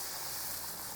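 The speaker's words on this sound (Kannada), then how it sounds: "ಕುದೀತಾ ಇದೆ." Chicken curry simmering in a pot, its sound a steady, soft bubbling hiss that holds level for a brief moment with no voices over it.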